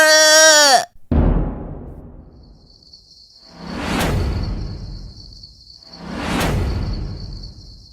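A goat gives a short, loud, wavering bleat in an animated story. Two long whooshing swells follow, with a thin high tone running under them.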